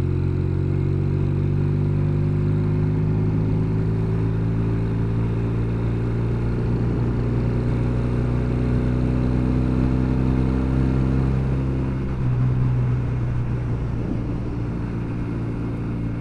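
Norton 650SS motorcycle engine heard while riding, a loud steady drone with rising harmonic pitch as it accelerates through gears, with wind rumble and no talk.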